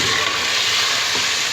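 Garlic ginger paste hits frying golden-brown onions in a pan for beef dal gosht, giving a loud, steady, broad sizzle and hiss that runs unbroken throughout, with no one talking.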